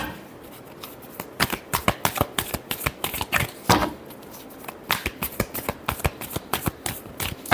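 Tarot cards being shuffled by hand, a close, crisp riffle of rapid flicking slaps in quick bursts with short pauses, loud and clear with no talking.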